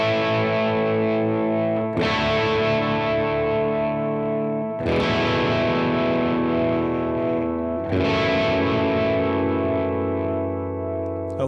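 Electric guitar run through effects such as distortion, chorus and echo rings out four sustained worship-style chord shapes, each strummed once and left to decay, about two to three seconds apart, up close with no voices.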